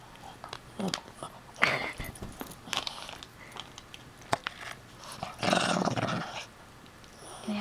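A dog growling in bursts while tugging at a chew toy, low rumbling growls and chewing sounds close by, with a person speaking softly between them.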